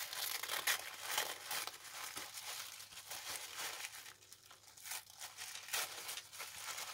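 Soft, continuous crinkling and rustling of thin tissue paper, faint and close, with irregular crackly bursts and no talking.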